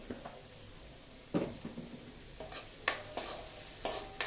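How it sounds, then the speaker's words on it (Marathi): Onion sautéing with salt in a pan for a mixed vegetable bhaji, a low background sizzle broken by intermittent scraping and stirring strokes that grow sharper and more frequent toward the end, with no voices. "कांदा छान परतवून घ्यायचा."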